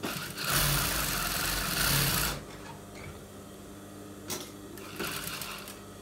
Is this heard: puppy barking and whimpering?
no